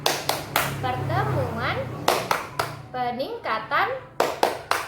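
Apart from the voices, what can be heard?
group rhythmic clapping chant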